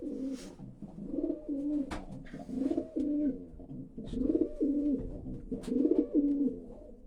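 Racing pigeon, a top breeding bird, cooing in repeated low rounded phrases, four or five coo bursts close to the microphone with no talk over them.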